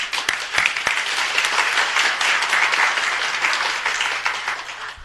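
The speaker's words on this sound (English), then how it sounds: "On behalf of a grateful city, let's give him a round of applause." Audience applause fills a city council meeting chamber, a dense and steady wash of clapping that holds loud for the full five seconds with no talking over it.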